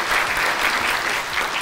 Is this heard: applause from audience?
yes